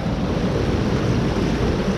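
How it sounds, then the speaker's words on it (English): Heavy rainwater rushing down an estuary after a downpour, a loud, steady broadband roar of flowing water mixed with wind buffeting the microphone, with no voices. "And there you can hear the water"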